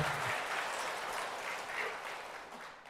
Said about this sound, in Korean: 젊은이 여러분 박수 한번 쳐주세요